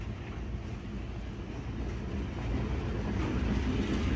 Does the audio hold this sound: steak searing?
no